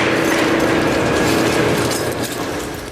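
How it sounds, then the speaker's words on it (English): Comar industrial shredder with steel cutters crushing and grinding hard drives, a loud continuous mechanical grinding with dense ratcheting clatter throughout, easing off slightly toward the end. "Comar's shredder erases years of data in seconds. Drives once guarding secrets collapse instantly."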